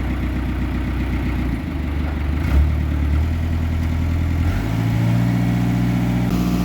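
A farm machine's engine, started from a battery, runs loudly and steadily, with its pitch rising and shifting as it revs up and settles.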